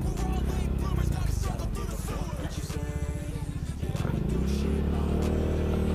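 A Yamaha Mio scooter engine labours over a rough, sandy road, its steady motor drone mixed with clattering and jolting from the bumpy surface, close and continuous.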